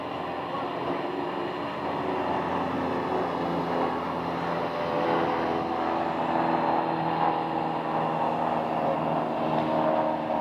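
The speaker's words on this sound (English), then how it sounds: "we got a Beech 200 King Air. It should be landing in a few moments" Beech 200 King Air turboprop landing at a runway in Scottsdale, a steady broadband roar of engine and airflow holding at an even level for the whole stretch, with no voices over it.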